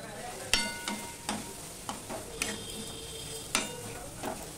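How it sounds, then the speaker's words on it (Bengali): Carrot being stirred into tomato paste in a frying pan: a spoon scrapes and knocks in irregular strokes over a soft continuous sizzle, close and alone. "গাজরটা দিয়েও আমি একটুখানি নেড়ে নেব"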